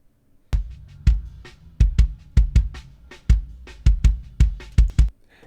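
Processed live kick drum with boosted low end and a touch of added highs, about a dozen punchy hits in an uneven groove, loud and close, each with a deep thump and a short bright click, no voices.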